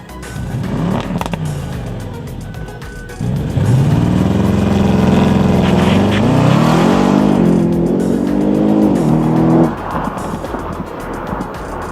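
Audi RS6 Performance with a 605 hp engine launching hard from a standstill, a loud rising engine roar that climbs through the gears before easing off, with road and tire noise close by.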